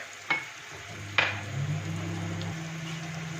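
Spices such as black pepper, salt and turmeric being stirred into maghaz masala (fried brain curry) in a hot pan, with a steady sizzle of frying and two sharp spoon scrapes against the pan, no talking.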